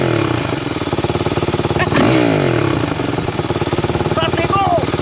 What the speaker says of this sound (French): Vas-y, petit démarrage. Petit vroom, vroom